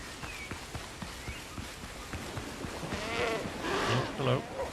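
Goats bleat in the video game Windrose, several calls close together toward the end over a busy background of footsteps and ambient game sound.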